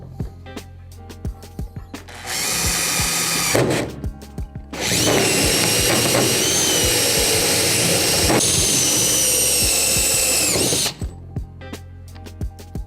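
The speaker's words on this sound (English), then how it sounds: "You can go ahead and drill into this" A power drill bores into the plug of a Hobie Mirage kayak, whining loudly in two close bursts, a short one and a longer sustained run, with quiet handling clicks before, between and after.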